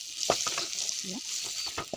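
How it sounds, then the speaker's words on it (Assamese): Onions and spices fry in a pan with a bright, continuous hiss, while a utensil stirs them in a few quick taps and scrapes, close by. "ইয়াত মছলাখিনি ইয়াত দি দিছোঁ, অলপ এনেকৈ ভাজি ল'ম।"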